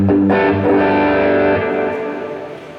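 A distorted, high-gain electric guitar chord from a humbucker guitar through a noise gate rings out loud and sustained, then fades and cuts off cleanly into silence.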